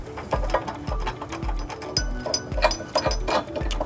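A ratchet with a 19mm socket and extension snugging flange nuts on a 2006 Buick Rendezvous trailer hitch, giving a close, rhythmic series of sharp pawl clicks at about two per second.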